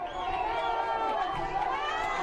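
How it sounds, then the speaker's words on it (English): Soccer crowd at a live all-star youth match erupting in angry jeers after a player goes down on a run, a loud, dense roar holding steady throughout. "Oh, the crowd is up in arms."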